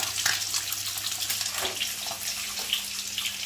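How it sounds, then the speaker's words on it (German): Water pours and splashes steadily as cooking water is drained off boiled rice in a home kitchen, a close continuous gushing stream. "man muss das Wasser abgießen"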